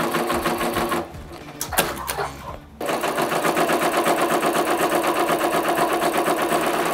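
An embroidery machine stitches a cutwork napkin, giving a dense, steady rapid needle chatter that drops out briefly and then resumes at full, constant loudness.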